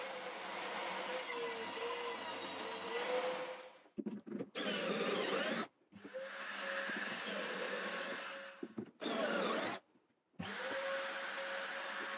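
A power drill cuts pocket holes into a 1/2 inch plywood panel in several bursts, each steady whine stopping abruptly with short silent gaps between, close and fairly loud with no talk.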